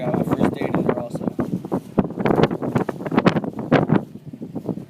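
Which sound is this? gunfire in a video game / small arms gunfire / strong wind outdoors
strong wind outdoors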